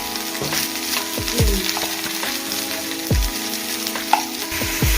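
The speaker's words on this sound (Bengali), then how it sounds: "তো বন্ধুরা দেখুন আমার সবজি প্রায় ভাজা ভাজা হয়ে যাচ্ছে।" Eggplant and tomato fry in oil for South Indian sambar dal, a steady broadband sizzle running through the whole clip with a few louder stirring scrapes along the pan, close and without speech.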